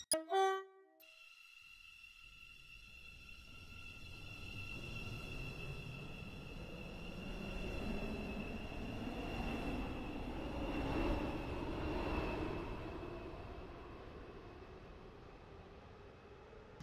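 A train rumbles past at a station in the Stepford County Railway Roblox game, opening with a short tonal chime, then a long steady roar that swells and fades as the carriages pass close by.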